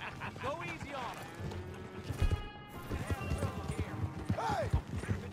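Horse hooves clip-clop steadily in a western video game, with rhythmic mid-distance thuds running throughout and bits of voices and other game sounds mixed in.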